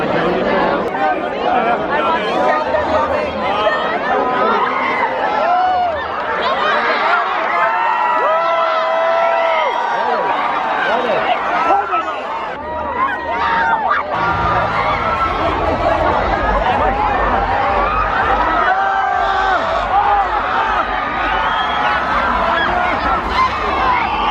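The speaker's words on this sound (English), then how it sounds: "the crowd has become massive" A massive crowd chatters and murmurs at Knott's Scary Farm ahead of the opening ceremonies, a dense, loud, continuous wash of overlapping voices with occasional shouts and whoops close by.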